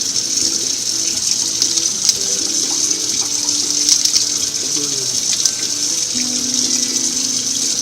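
Tap water gushes steadily from a faucet while freshly picked homegrown zucchini are rinsed, a constant close splashing flow with faint background voices and small clinks.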